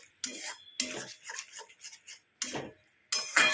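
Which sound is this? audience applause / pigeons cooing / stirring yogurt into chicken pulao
stirring yogurt into chicken pulao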